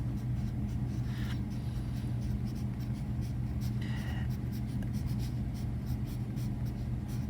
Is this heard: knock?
no